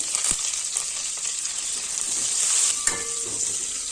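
Mustard seeds sizzle in hot oil for tempering, a near, moderate frying hiss with a few sharp pops and crackles scattered through it and no voice.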